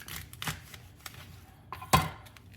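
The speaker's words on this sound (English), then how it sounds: "just gonna cut the ends off" A kitchen knife trims the ends off asparagus on a cutting board, giving a few soft, quiet chops spaced apart with one sharper cut near the end.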